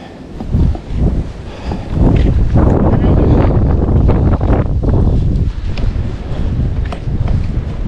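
Strong wind blasting head-on at a seaside dike during shore fishing, loud buffeting gusts roaring into the microphone almost continuously with rustling bursts.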